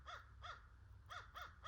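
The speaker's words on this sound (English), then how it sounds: "I am beefing with birds right now." Several crows caw in short harsh bursts, two quick calls, a pause, then two more, fairly close and loud against a low background rumble.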